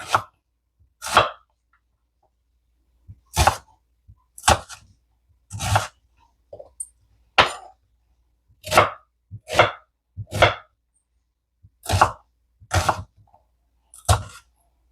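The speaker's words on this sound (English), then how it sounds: "I'm just going to cut these ends off. And again, a rough chop." A knife rough-chops onions and carrots on a cutting board with about a dozen sharp, separate chops in an uneven rhythm, close and clear, with quiet pauses between strokes.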